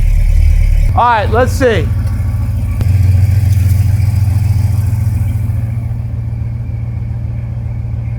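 A Ford Galaxie 500 engine idles with a steady, close, low rumble throughout, while someone speaks briefly near the start.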